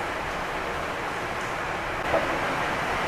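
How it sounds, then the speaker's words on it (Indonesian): Steady, dense hiss of heavy rain pouring continuously, fairly loud and even, with no voices. "Ini suaranya maaf berisik karena kebetulan lagi hujan gede banget di"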